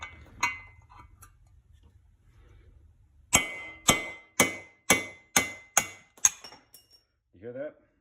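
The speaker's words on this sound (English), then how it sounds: "And you'll see me hammer it out, and then it will drop to the floor." Punch and old ratchet extension hammered to knock a bushing out of a 1958 Johnson 18 hp outboard motor: about eight sharp metallic strikes in steady rhythm, close and bright, after a quiet stretch with faint talk.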